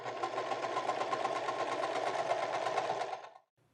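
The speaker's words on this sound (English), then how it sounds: "let me go ahead and stitch this together" A sewing machine stitches pleated high-waisted pant panels together in one steady mechanical whir of rapid needle strokes, running close and alone before stopping abruptly near the end.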